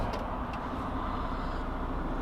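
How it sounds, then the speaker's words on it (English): A big semi-truck's diesel engine has just fired up and idles with a loud, low, steady rumble close by, a couple of brief clicks near the start. "We just started this big semi-truck"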